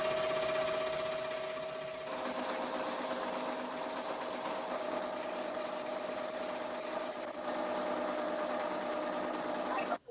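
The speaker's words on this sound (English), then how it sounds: "This is going to be the tack down stitch, and it's just tacking down the material" An embroidery machine sewing a tack-down stitch over lace applique on a shirt, running as a steady, close, mechanical hum for several seconds before stopping abruptly at the end.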